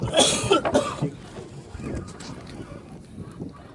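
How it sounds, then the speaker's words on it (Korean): Several harsh coughs burst out close by in the first second, followed by quieter breathing and faint movement with wind noise, on a fishing trip at sea. "기침을 하네"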